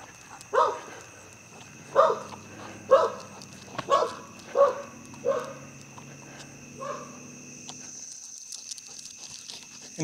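A dog barks outdoors at night from some distance, about seven evenly spaced barks that fade toward the end, with a steady insect drone behind them.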